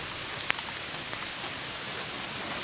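Heavy rain pattering steadily in the open air at a protest camp, a continuous broadband wash with a couple of faint drips or taps standing out early on.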